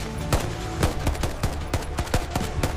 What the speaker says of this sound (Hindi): जमीन से अचानक गोलियों की बरसात शुरू हो गई